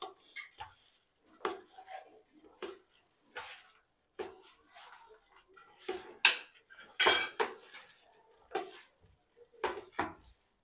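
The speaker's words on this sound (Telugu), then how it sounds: "సో ఇప్పుడు ఇవన్నిటిని ఇలా బాగా కలిపేసుకోవాలి." Hyderabadi chicken dum biryani ingredients being mixed in a pot at home, with intermittent clinks and scrapes of a utensil against metal coming in short bursts, separated by quiet gaps.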